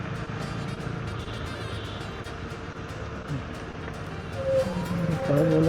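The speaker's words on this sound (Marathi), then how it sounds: "मला माझ्या गाडीचा आवाज येतो" A vehicle engine hums steadily in dense city traffic near a bus stand, with a low rumble that grows louder toward the end and a horn sounding over it.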